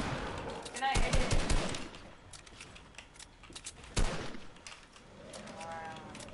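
Gunfire in a Fortnite match: two dense bursts of automatic fire, one early and one near the middle, sounding fairly close against a low background.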